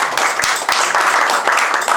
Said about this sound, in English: give a big round of applause for Brian